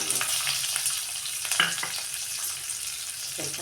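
Onion frying in oil with mustard seeds, cumin and curry leaves crackles in a steady, close sizzle, with a few sharper spoon scrapes against the pan and no voices.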